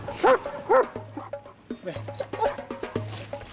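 German Shepherd police dog gives a few sharp, loud barks and yips at close range, followed by whimpering and excited panting, with a low background hum.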